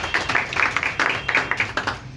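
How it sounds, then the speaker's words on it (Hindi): A small audience clapping at a digital marketing course, a steady run of light, evenly spaced claps close by, fairly brief and with no voices over it. "अप्लॉज होना चाहिए, तालियां होनी चाहिए"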